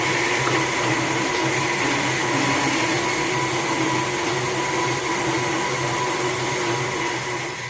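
An electric mixer whirs steadily while beating gingerbread cookie dough with molasses added, a constant loud motor drone with no pauses.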